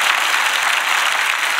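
A Sunday church congregation gives a sustained round of encouraging applause, many hands clapping in a dense, loud, steady roar with no voices over it.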